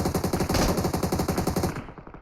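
An M249 machine gun firing in PUBG Mobile, a loud continuous rapid burst of closely spaced shots that cuts off abruptly near the end.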